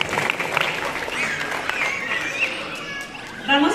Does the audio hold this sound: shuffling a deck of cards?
no